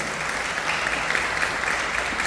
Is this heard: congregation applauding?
yes